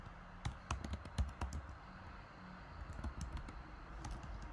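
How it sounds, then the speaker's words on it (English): Typing on a computer keyboard, with irregular bursts of key clicks and short pauses, close and moderately quiet, with no talking. "I'm sorry, I usually am a very good typer."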